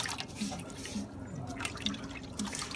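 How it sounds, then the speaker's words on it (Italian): Clean water is poured into a homebrewing system's container while the equipment is being cleaned, with quiet trickling and a steady run of dripping plinks that fall at regular intervals and sit fairly faint and close. "L'acqua che metto è acqua pulita ovviamente."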